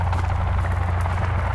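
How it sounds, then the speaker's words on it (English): In the video game Sons of the Forest, a helicopter's rotor beats in a steady, loud, low thudding pulse that continues without a break. "There's a chopper!"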